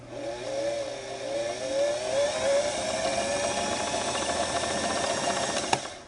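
A Singer Model 466 sewing machine winds its bobbin with a steady, whirring motor hum that rises in pitch as it speeds up, then holds even, with a single faint click near the end.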